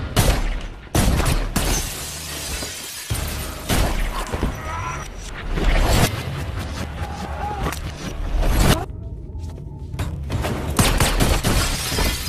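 A violent action-film fight scene from John Wick with close-range gunfire: sharp, loud shots and impacts burst out repeatedly at an uneven pace, with crashes, scuffling and brief quiet gaps between volleys.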